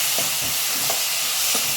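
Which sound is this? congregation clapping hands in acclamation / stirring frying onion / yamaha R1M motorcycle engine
stirring frying onion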